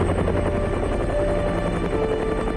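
Steady helicopter rotor drone in the video game Sakura School Simulator, loud and continuous, a low thudding hum that never lets up.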